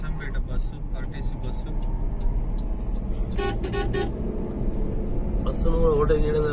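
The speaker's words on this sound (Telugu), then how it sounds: "బస్సును కూడా ఓవర్టేక్ చేయడం జరుగుతుంది." A car travelling on a road near Umamaheshwaram overtakes an Achampet RTC bus, giving a steady engine and road rumble with a few short horn toots. A person talks over the driving noise throughout.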